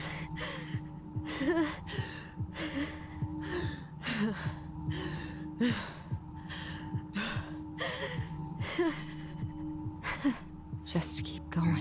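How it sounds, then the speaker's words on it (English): A character in the video game Tell Me Why breathing hard, a steady series of loud, close, rhythmic gasping inhales and exhales repeating about every second over a low ambient drone. "she's breathing pretty hard"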